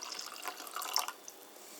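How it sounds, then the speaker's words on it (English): Water trickles and splashes into a coffee mug for under two seconds, a soft, close, fairly quiet pour with light droplet sounds and no talking. "pour in the water, and then you pour in the coffee"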